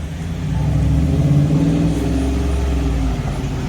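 Idling V8 engines of a Chevrolet Corvette C7 and a Dodge Challenger waiting at a red light downtown at night, a deep steady rumble with a slight swell, close and fairly loud, with no talking.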